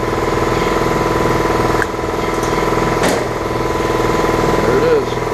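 An air compressor in a truck shop drones steadily while filling its tank, a constant close mechanical hum with a brief faint knock partway through.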